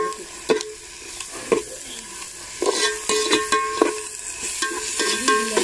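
Ginger garlic paste for paneer biryani sizzling and frying in a pan, with a steady hiss under repeated clanks and scrapes of a ladle stirring it against the metal.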